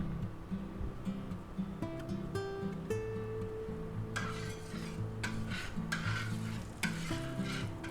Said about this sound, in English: Now we're going to put about a teaspoon of butter in the pan.